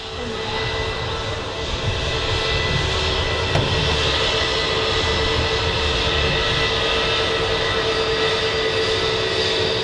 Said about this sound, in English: These do taxi very slowly and quietly,